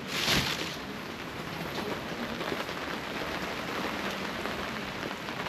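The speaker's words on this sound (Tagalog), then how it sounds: "naririnig nyo yung ulan" Steady rain pours down in a dense, continuous hiss of drops hitting a surface, close and fairly loud, with no voices.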